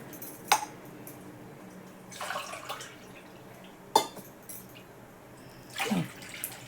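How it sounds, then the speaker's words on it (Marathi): Water poured from a glass into a kadhai makes two short, close splashing pours with faint clinks between them, fairly quiet overall. "ह्या ग्लासाने 2 ग्लास पाणी घालते मी"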